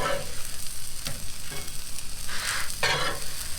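Tortillas for crispy tacos sizzle in hot ground beef oil in a pan, a steady close crackle with louder bursts as they are flipped and pressed, no talking.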